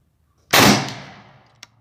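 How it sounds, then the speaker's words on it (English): A single shot from an AEA Max HP .357 compact big-bore airgun fired at long range, a loud, sharp crack that decays over about a second, followed by a faint distant tick. "So this will be my last shot for long range."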